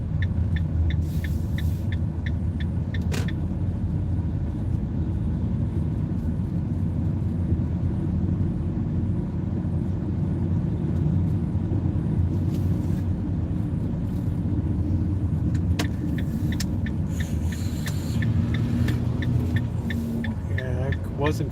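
A car on a city street at night passes as a steady low rumble that swells and fades over about twenty seconds, with brief clatters and a voice talking over it.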